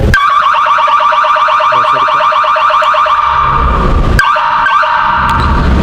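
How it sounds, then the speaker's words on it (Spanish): A loud electronic security alarm, triggered by a motion sensor, blares continuously with a rapidly warbling, pulsing siren tone, close and harsh, with a couple of sharp clicks near the end. "se dispara la alarma por la señal de alarma"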